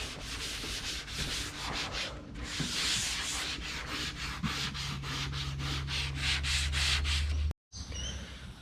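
Steady, continuous sanding on the body of a Nissan S13 Silvia, a close rhythmic abrasive rasp with a brief drop-out near the end before the scraping resumes.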